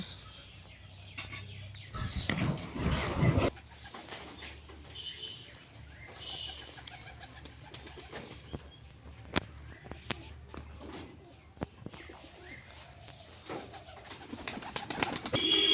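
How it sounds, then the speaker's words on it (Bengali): Pigeons coo softly close by in low, throaty murmurs, with a brief burst of flapping and scattered light taps and shuffles. "তো চলে এসেছে সব পায়রাগুলো একে একে"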